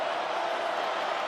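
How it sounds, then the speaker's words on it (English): Stadium crowd at a college football game in Morgantown, West Virginia, on third down against TCU: a dense, steady roar of many voices, loud and continuous throughout. "Listen to this crowd."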